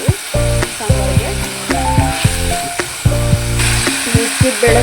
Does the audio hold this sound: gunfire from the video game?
no